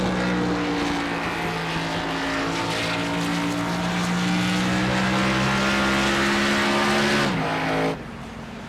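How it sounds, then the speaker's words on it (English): An Xfinity Series race car at Twin Ring shifts between third and fourth gear, its engine droning loudly and steadily as the pitch slowly rises, then dropping sharply with the shift near the end. "it sounds like Mark's shifting in 3 and 4 as well"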